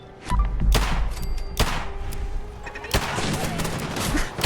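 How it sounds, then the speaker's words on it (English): Automated turrets at a Fallout 4 settlement open fire on the player, sharp gunshot bursts cracking out in a few loud volleys over a dense background of game noise. "Oh, my own turrets that I built here are shooting at me."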